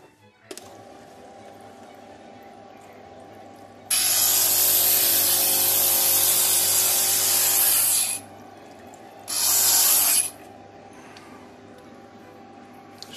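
An edge is sanded down during work under a roof, a steady rasping burst of about four seconds followed by a shorter second pass, close and loud over a low background hum.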